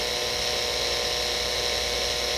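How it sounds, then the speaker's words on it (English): A small round dental burr whines continuously at high speed while refining the fissures of a fixed partial denture, a close, steady, shrill drilling tone throughout. "A small round burr is used to accentuate any fissures"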